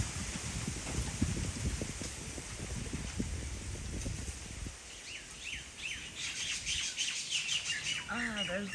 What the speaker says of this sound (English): there's the birds complaining